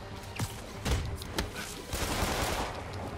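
Bursts of gunfire in the video game Marvel's Spider-Man crack through a noisy, busy scene, several sharp shots scattered over a few seconds amid continuous rumbling clatter.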